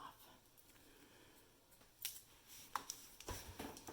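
Scissors snip hair during a men's haircut, a few quiet, close metallic cuts in an irregular rhythm, growing more frequent toward the end over a soft background.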